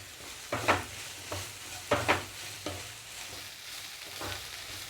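Ivy gourd pieces fry with ginger paste in a pan, a quiet continuous sizzle punctuated by several distinct scraping stirs of a spatula.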